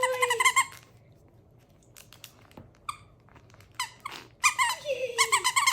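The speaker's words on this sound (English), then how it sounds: "And a dragon squeaky toy." A dragon-shaped squeaky dog toy gives a quick burst of sharp squeaks, then quieter handling and rustles, before another run of loud squeaks close by.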